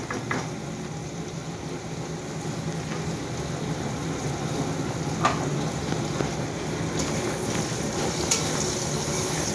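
Spice masala sautéing in a pan, a dense, even sizzle running the whole time with a couple of faint clicks, steady and close.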